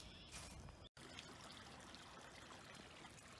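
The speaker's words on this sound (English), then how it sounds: "we got really good flow coming out right now." Steady flow of water pouring from the discharge end of an overflow pipe into a ditch after storms, a continuous rushing trickle heard up close, with one brief dropout.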